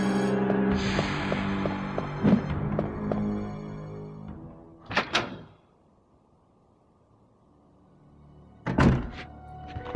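In the video game Resident Evil 2, an enemy smashes a new hole through a wall: heavy thuds and crashes over ringing game audio, then a quiet stretch and another loud impact near the end.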